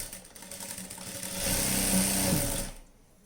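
A sewing machine stitches a night dress, running in one steady burst that swells loud in the middle and then stops, leaving near silence.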